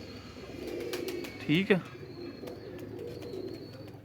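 A light, soft-bodied Imamdeen pigeon gives a brief, close coo partway through, set against steady background noise while someone speaks briefly.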